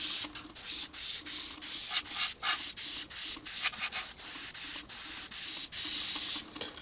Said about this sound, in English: this is my brand new airbrush